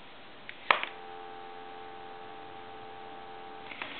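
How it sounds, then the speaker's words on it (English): A Western Electric Princess telephone handset gives a sharp click, then a steady, quiet dial tone hums on for several seconds before a few faint clicks at the end. "we're going to go back to some dial tone"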